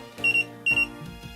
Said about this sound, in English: It starts beeping